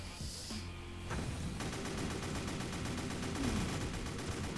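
Gunfire and artillery from tanks in the war game Crisis, with dense rapid shots and booms rattling continuously at moderate loudness, layered over a low rumbling battle backdrop.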